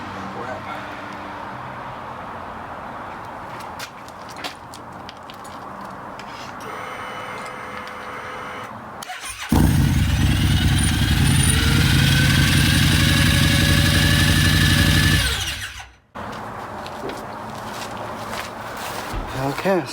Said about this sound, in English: Okay, so the starter's not disengaging.